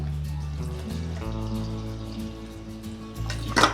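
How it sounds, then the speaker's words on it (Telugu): About a glass of water poured over soaked lentils in a pressure cooker: a soft, continuous trickling pour under a low background hum, ending with a brief brighter splash, no voices. "హార్డ్లీ 1 full glass అంత వాటర్ పోసుకున్నాను అంతే"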